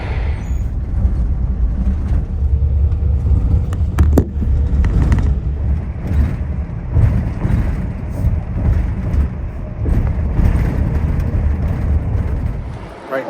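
City bus and street traffic on Madison Avenue in Midtown Manhattan: a continuous loud low rumble of engines and passing vehicles, with a sharp hiss of air brakes partway through, no clear talking.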